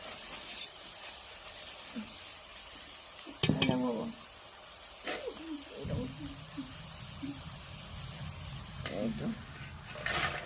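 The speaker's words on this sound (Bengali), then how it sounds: "এই দেখো আলু ভাজাটা হয়ে গেছে" Potato pieces fry in hot oil in a pan and a spatula stirs them through, a steady soft sizzle under scraping and clattering stir strokes, with bits of voice now and then.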